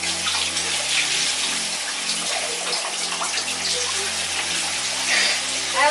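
Indoor shower running behind a bathroom door, a steady, loud hiss of spraying water with a low electrical hum beneath, continuous and unbroken.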